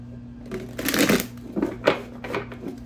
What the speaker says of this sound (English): Let's do one more nice shuffle.